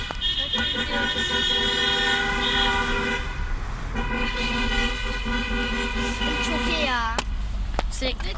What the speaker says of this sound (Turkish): Oo trafik oluyor. Oradan Yoldayız buraya gidiyoruz sürekli korna çalıyor.